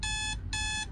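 A phone alarm rings in two loud, bright electronic tone bursts separated by a short gap, close and clear over a low background rumble.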